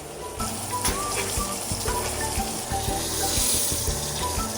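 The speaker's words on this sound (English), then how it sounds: "We're basting the steak. The butter is cooking up." Butter sizzling in a hot pan while a steak is basted, a steady crackling fry with spoon scrapes and clinks knocking through at irregular intervals, close and fairly loud with no talk.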